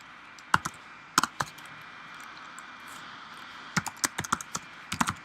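Keys clack on a computer keyboard in clustered bursts of quick taps separated by quiet pauses, close and crisp against a soft steady hiss.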